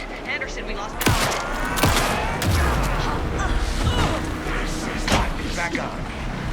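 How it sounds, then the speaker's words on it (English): Several sharp gunshot bursts crack out over a dense action-game soundscape of Alan Wake 2, with heavy impacts and clattering mechanisms between shots, loud and close. "Anderson, pin him down with gunfire for me to get the light on him."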